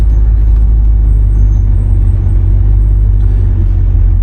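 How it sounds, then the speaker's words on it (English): A 1981 Chevrolet Corvette engine idles with a loud, steady low rumble, close and continuous with no breaks. "Idle sounds good."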